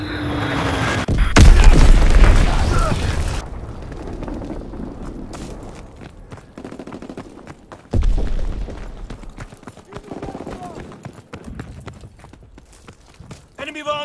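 Bomb explosions in the World War II shooter Call of Duty: WWII boom loudly, one early blast with a long rumbling tail and another a few seconds later, between quieter battlefield noise and radio-style voice callouts.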